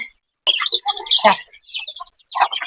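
Chicks chirping at feeding time in a coop, a burst of close, high peeping tweets in quick clusters with short pauses between.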